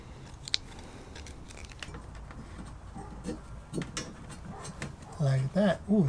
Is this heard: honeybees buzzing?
no